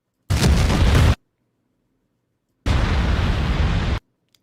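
Two loud, broadband blasts from a video game cutscene featuring an elder dragon trio, each roaring burst lasting about a second, separated by a brief silence.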